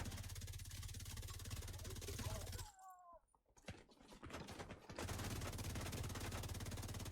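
Automatic gunfire in the video game Division 2, continuous rapid shots that cut out for about two seconds, leaving a few mechanical clicks, then resume steadily, moderately loud.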